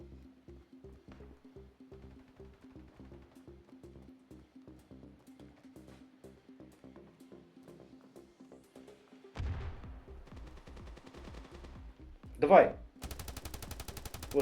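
Gunfire in the mobile shooter Standoff 2: a long run of evenly spaced, rapid shots, then a louder burst and a sharp crack before a dense final volley. There is no talk.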